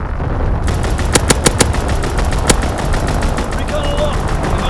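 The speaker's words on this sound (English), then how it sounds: "Strafing run inbound." Strafing-run machine-gun fire in Call of Duty: WWII, a handful of sharp loud bursts standing out over a dense, steady wash of battle noise, with a voice briefly audible.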